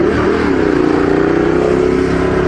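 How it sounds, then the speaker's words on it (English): A Ducati Diavel motorcycle revs loudly up close, its engine note rising sharply in a quick throttle blip and then holding a steady, gruff drone. "can always blip the throttle if people aren't paying attention and moving over for you"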